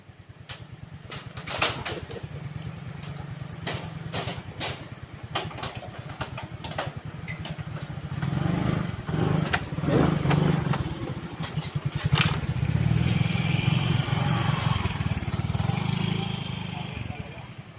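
Motorcycle engine droning steadily during a ride across a hanging bridge, with repeated clattering knocks from the bridge planks and people talking over the engine throughout.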